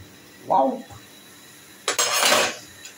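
Potatoes being stirred in a cooking pot, a short scrape near the start followed by a louder burst of metal utensil scraping and clattering against the pot, close by.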